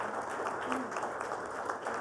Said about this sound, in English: Please give them a loud round of applause.